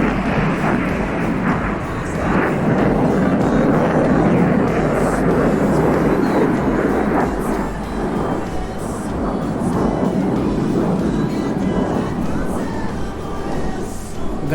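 A Su-27 jet in the DCS flight simulator roars steadily at full afterburner, a loud, dense, continuous rumble that holds for the whole stretch without a break.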